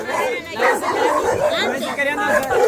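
Several dogs bark and yip in an alley, close and loud, overlapping continuously with people chattering nearby.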